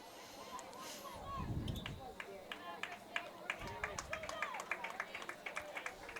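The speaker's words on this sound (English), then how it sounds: "Westfield parents and fans cheer." Parents and fans cheering at a girls' high school soccer game, a loose crowd of voices and scattered claps rising and falling over several seconds, with speech and whistles mixed into the outdoor din.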